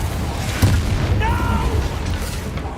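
A Confringo spell explosion in the video game Hogwarts Legacy: a loud, low booming blast with a rumbling tail, and a spoken voice briefly overlapping it.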